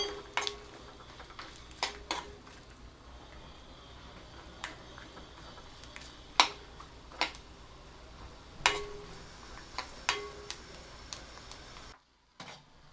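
Peanuts sautéed in a pan for matki usal: a soft background hiss broken by irregular sharp clinks and taps of a spatula against the pan, close and fairly quiet, with no talking. A brief silence comes near the end.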